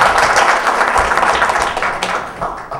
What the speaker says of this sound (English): big round of applause for one of our best instructors, Mr. Jim Coda.